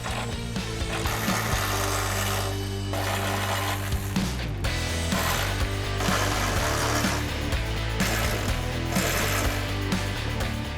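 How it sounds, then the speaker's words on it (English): A ratchet turns bolts on a DV8 Spec Series rear bumper being fitted to a Sierra or Silverado pickup, giving rapid repeated clicking bursts over a steady background hum. "Okay, 4 more bolts to go. Get them started with the ratchet."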